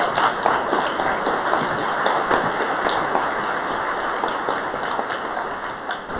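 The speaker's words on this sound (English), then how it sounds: "I want to extend a round of applause" An audience claps at an event, a steady, crackling patter of many hands that holds at a moderate level for several seconds before easing slightly.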